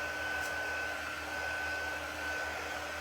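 A hair dryer runs steadily to dry paint on an art piece, a continuous close whir with a faint tonal whine, holding level for the whole stretch with no talking.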